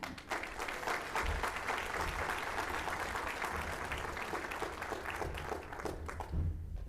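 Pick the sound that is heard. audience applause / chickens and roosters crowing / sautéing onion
audience applause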